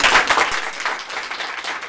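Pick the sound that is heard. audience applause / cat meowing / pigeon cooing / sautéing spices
audience applause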